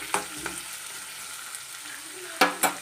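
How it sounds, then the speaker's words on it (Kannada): A medium onion fries gently in a pan with a low, quiet sizzle, broken by several sharp clacks of a spatula stirring and scraping against the pan. "ಇವಾಗ ನಾವು ಇದನ್ನು ಈರುಳ್ಳಿ ಒಂದು ಹಾಫ್ ಫ್ರೈ ಮಾಡ್ಕೊಂಡ್ರೆ ಸಾಕು ರೀ"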